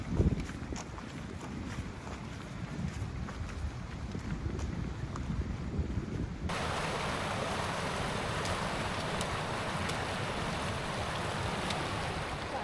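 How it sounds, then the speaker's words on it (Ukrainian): Mountain streams on the Hardangervidda plateau in Norway, a broad rushing wash of flowing water that jumps louder and denser about halfway through, with a few faint knocks from a hiker nearby. "шукаємо вузькі місця і періодично перестрибуємо через потоки води"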